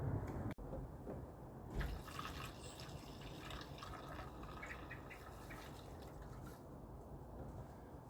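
Diesel fuel poured into a home diesel hot-air heater's tank makes a steady liquid trickle and splash throughout, close by with one sharp knock near the start and no voices.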